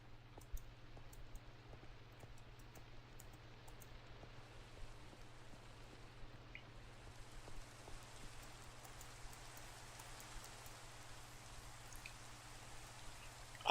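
Steady rainfall in the video game Minecraft, a soft continuous hiss of drops with faint scattered clicks, even and unbroken throughout with no talking.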